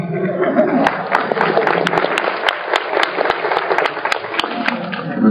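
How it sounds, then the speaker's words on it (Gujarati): A large seated devotional gathering of about 650 people applauds, dense steady clapping with sharp individual claps standing out, fairly close and loud, with some voices mixed in. "એટલે કે તાળી પાડી છે"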